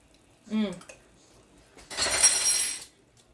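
A metal spoon clinks and scrapes inside a slow cooker crock pot while gravy is tasted, a bright rattling clatter lasting under a second, following a brief vocal sound.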